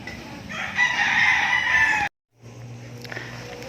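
Chickens in a farm setting, hens with a rooster, crow and cluck close by, a loud drawn-out call followed by a brief pause and then quieter clucking.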